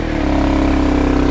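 Adventure motorcycle on Bridgestone AX41 tyres revving hard as the rear tyre spins on a wet, slippery, muddy hill, a loud, close, pulsing engine drone lasting about a second and a half.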